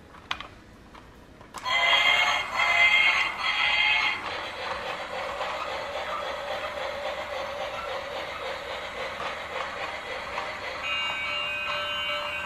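A small battery-powered toy train clicks on, then runs with a steady whirring, rattling hum and faint ticking, fairly close and constant, with no talking.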